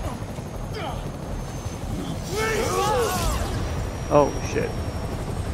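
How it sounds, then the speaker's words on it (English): A helicopter in the PC game Spider-Man Remastered gives off a steady, whooshing rotor drone that stays level throughout, while people talk over it and a short exclamation rises near the end. "whoever we're looking for is probably in that helicopter"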